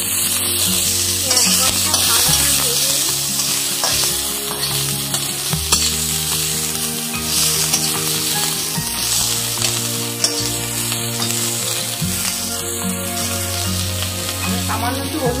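Onions and broccoli stir-fry in a pan with continuous loud sizzling and repeated stirring and scraping, over a low steady hum.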